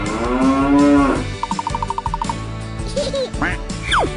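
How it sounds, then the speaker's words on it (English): A cow moos loudly and close in a cartoonish animal toy or game setting, followed by playful musical jingles and effects. "Cow. Cow."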